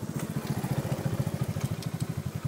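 A motorcycle idles close by, its engine thumping in a fast, even pulse with a rough mechanical chatter on top, steady for a couple of seconds with no one speaking.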